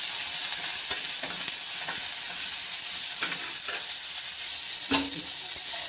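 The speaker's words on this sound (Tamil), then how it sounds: "நல்லா வதக்கிடலாம்." Chopped onions sautéed and stirred in a pan for South Indian kootu, a steady close sizzle with scattered scraping stir sounds throughout.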